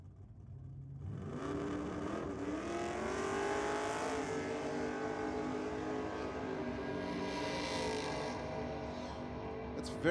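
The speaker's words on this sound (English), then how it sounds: "It's very loud, that VK." A loud Holden VK drag racing car accelerates down the track at a Ford versus Holden theme night, its engine note climbing steadily as it pulls away, heard through trackside microphones with no talking.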